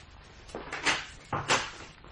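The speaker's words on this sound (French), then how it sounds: "Ferme ta porte." A door swung shut in a quiet room during a French television mystery drama, heard as two soft, close thumps about half a second apart with no talk over them.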